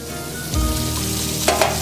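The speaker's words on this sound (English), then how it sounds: "So the pan, scallops are nice and seared." Scallops sear in an oiled pan with a loud, close hiss that swells as they are flipped, followed by a couple of sharp clinks of a utensil against the metal.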